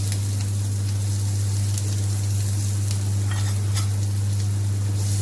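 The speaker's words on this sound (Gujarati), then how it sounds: "ડુંગળીનો વઘાર કરીશું આપણે" Long-sliced onions frying with asafoetida in hot oil, giving a steady close sizzle and crackle with occasional stirring, under a constant low hum, with no talking.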